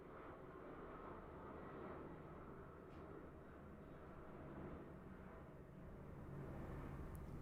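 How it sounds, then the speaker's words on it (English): A distant airplane drones overhead in a steady, faint low rumble that holds evenly throughout with no talking. "Sorry, plane."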